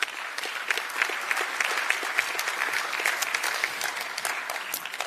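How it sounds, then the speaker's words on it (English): Steady applause from a conference audience at an EU event in Albania, crisp individual claps audible within a moderately distant, continuous wash that holds throughout. "This is your applause"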